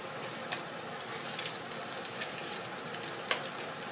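Roti frying in a pan, turned back and forth until golden and crisp, gives a faint, steady sizzle with scattered small pops and crackles, close by and without talk.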